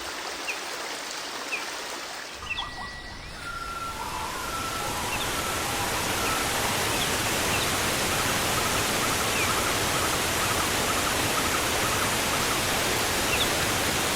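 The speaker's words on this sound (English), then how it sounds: "Nice waterfall." A river waterfall in Tobago rushes loudly and steadily, a dense broadband roar of falling water that swells up after a quieter opening and then holds constant, close by.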